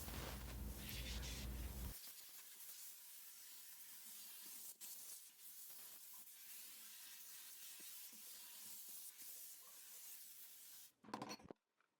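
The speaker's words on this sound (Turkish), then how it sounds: "Sağını, solunu, her tarafını güzel bir şekilde buhar aparatı ile temizliyorum." A steam cleaner nozzle works over a kitchen stove burner, giving a steady loud spray hiss that runs through most of the clip, with brief breaks and a short louder burst near the end.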